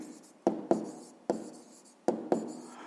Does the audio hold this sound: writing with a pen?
yes